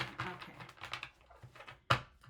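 Oracle cards are shuffled by hand, giving a run of quick, crisp flicking and riffling taps close by, with one sharper snap near the end.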